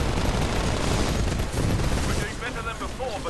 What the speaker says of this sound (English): I'm just shooting at people.